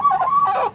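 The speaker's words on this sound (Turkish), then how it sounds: "Burada tavuklar yatıyor." A chicken clucks loudly and close, two drawn-out bursts with a brief dip between, then quiet.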